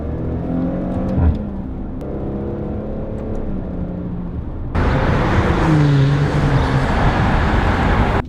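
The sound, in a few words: car downshifting, engine revving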